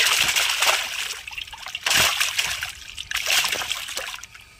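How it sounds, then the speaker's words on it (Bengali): A live rohu fish jumps and thrashes in a little water after being caught from a pond, making bursts of splashing and sloshing, close by, in two or three loud surges. "মাছটাকে লাফাচ্ছে দেখুন, আমরা একটু জল দিয়েছি।"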